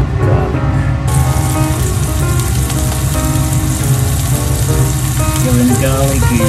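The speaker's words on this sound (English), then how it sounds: "put the garlic and red pepper into the pan. Then heat it" Garlic and red pepper crackle and sizzle steadily in sesame oil in a hot pan for stir-fried komatsuna, a dense, continuous frying hiss with music playing softly underneath.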